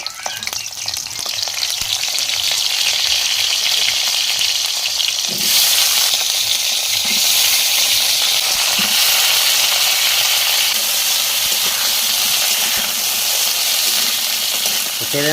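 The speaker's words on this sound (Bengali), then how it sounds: "তো পটলকে ছাড়ছে তেলের মধ্যে।" Pointed gourd and potato pieces frying in hot oil, a loud dense close sizzle running throughout, with a surge as the vegetables go in and occasional stirring clinks, no talk.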